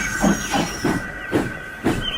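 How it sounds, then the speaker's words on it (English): A steam locomotive hissing in a series of five evenly spaced puffs of steam, close and fairly loud, each with a soft low exhaust thump, over a faint steady whistle-like tone. "Gordon backed down on his train, hissing mournfully."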